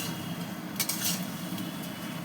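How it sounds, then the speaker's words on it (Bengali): Goat meat and large potato pieces being stirred and fried in a pot, a continuous close sizzle with scraping and clinks of the spoon against the metal. "এবার আমি এটাকে ভালো করে কষিয়ে নেবো সুন্দর করে"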